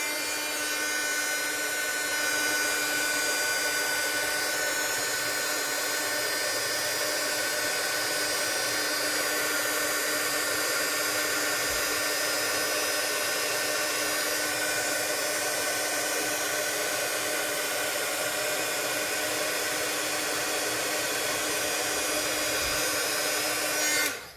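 A hair-dryer-like heat tool blows steadily for over twenty seconds, heating embossing powder on a wooden cog. The droning whir is loud and close, with no pauses.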